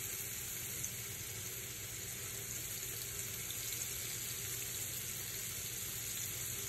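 Shrimp fry in hot grease for seafood pasta, giving a steady dense sizzle and hiss that holds evenly throughout, close up, with no one talking.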